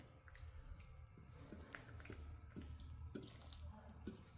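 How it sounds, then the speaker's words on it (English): Water poured onto potting soil for tomato plants, a soft continuous splashing trickle with small intermittent drips and patters, faint and close, with no talking. "Now it's time to water the soil."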